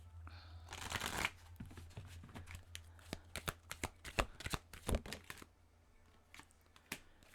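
Oracle cards are shuffled near and quietly in a run of quick riffling and tapping bursts, the soft slaps of the deck coming in uneven clusters and then thinning out.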